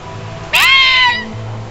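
A heavy cat lets out one loud, close meow lasting about half a second, followed by a low background hum.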